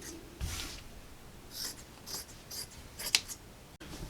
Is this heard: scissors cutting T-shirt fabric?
yes